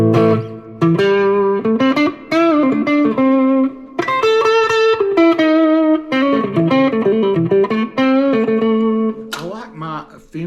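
An electric guitar plays through a Fender Mustang GTX100 amp with Ranger boost, metal gate and spring reverb, giving loud, sustained overdriven lead notes and bends in a continuous melodic phrase.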